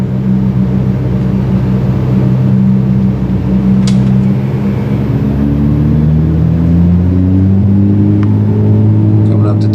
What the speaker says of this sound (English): All right, advancing the throttle.